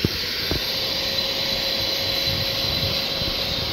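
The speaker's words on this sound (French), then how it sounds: "On a complètement brossé le ciel de toit, on va maintenant venir l'aspirer." Steady broadband vacuum hiss as a Mini One's roof headliner is vacuumed after brushing off leftover glue, continuous and close with a few bumps of the nozzle against the fabric.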